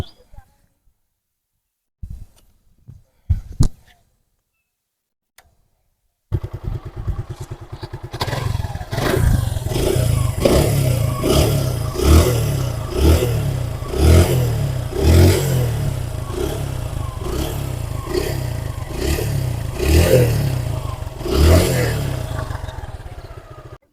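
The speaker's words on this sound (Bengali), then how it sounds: "বাইকটির সাউন্ড কন্ডিশন খুবই কিন্তু ভালো আছে" A Suzuki Gixxer motorcycle engine starts after a few faint knocks, then idles and revs repeatedly in rhythmic bursts, loud and close, with a steady clattering rumble underneath.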